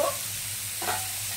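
Chow mein noodles and ingredients stirred in a hot pan, a brief soft sizzle with a single scrape of the utensil.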